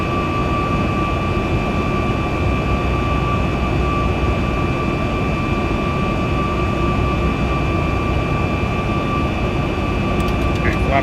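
Southwest Boeing 737 Max 8 airliner jet engines in X-Plane 12, spooling on the takeoff roll down runway 6: a steady, loud, close roar with a persistent high whine, unchanging throughout.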